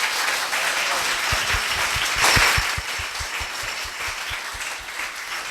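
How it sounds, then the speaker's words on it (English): A graduation audience claps in a dense, steady burst that swells briefly and then eases off, with a loud, close wash of many hands and no talking over it. "One final round of applause for Mapcha!"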